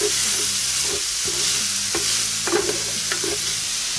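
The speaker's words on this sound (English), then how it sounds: "Now what we're going to do is we're going to fry these off a little bit." Chicken pieces sizzle and fry in a pan on a Lidl mini kamado for paella, a steady close hiss with scattered clinks and scrapes as they are stirred, no voices over it.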